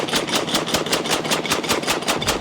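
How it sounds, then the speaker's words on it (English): An AA-12 automatic 12-gauge shotgun emptying a 20-round drum, a fast steady string of about a dozen booming shots in rapid rhythm, loud and continuous with no pauses. "12-gauge shotguns, not exactly notorious for being soft-shooting guns, let alone ripping out an automatic 20-round drum out of one"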